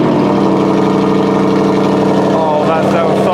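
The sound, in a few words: V8 car engine starting and idling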